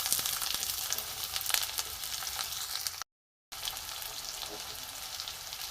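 Chopped onion sizzles in hot oil in a pan along with garlic, a constant bright crackling hiss close by, broken by one short gap of silence, with no voices.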